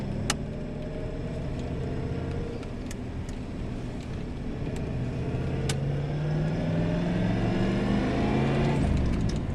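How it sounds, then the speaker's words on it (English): A classic Chevrolet Malibu G-body with a 4-speed manual runs steadily while driving around the block to warm up, its engine droning continuously at moderate volume and rising slightly in pitch toward the end. "I'm gonna get this car around the block, get it nice and warm"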